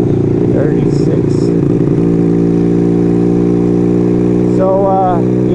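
A heavy Kawasaki motorcycle engine runs loud and steady while riding on a long country road, a constant mid-pitched drone with a shift in tone near the end.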